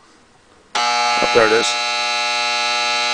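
Alarm buzzer of a restored pink 1957 Westinghouse H-572T4 clock radio, starting abruptly and droning as a loud, steady harmonic buzz while someone briefly speaks over it.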